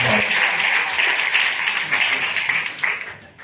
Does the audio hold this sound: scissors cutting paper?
no